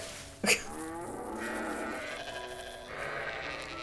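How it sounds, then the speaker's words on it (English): After a sharp knock, a cow lets out a long, drawn-out moo, close and moderately loud, followed by a second lower call. "That is one buff ass cow."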